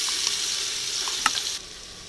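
Green chilli masala paste with ginger and garlic sizzles in hot oil for a beef fry, giving a bright, steady crackle. A brief clatter of stirring comes midway, then the sizzle quiets slightly.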